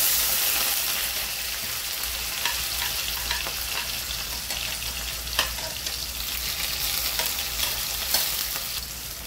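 Cumin seeds and onion fry in a pan, giving a continuous crackling sizzle with occasional sharper pops and stirring scrapes, close up and with no talking.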